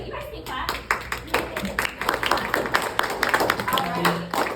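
Students in a classroom clap briefly, a burst of scattered hand claps with sharp individual slaps and some overlapping voices and room noise around them.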